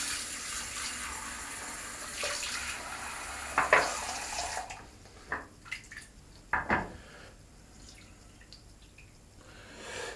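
Water is poured and splashed into a shaving bowl, a run of splashy pouring followed by a few short clinks and drips, fairly quiet and with no speech.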